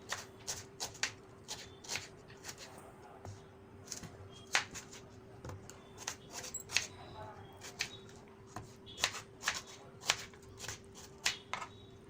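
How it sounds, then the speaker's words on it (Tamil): Knife chopping onions into large pieces on a board for a spicy Tamil kara chutney, a steady run of sharp, crisp taps close by over a faint background hum. "நம்ம கார சட்னிக்காக வெங்காயத்தை கட் பண்ணிக்கலாம்"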